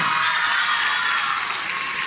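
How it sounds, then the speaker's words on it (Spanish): A crowd applauds the third-place winner of a contest, sustained, close, dense clapping that holds at an even level throughout with no speech over it. "Fuerte el aplauso"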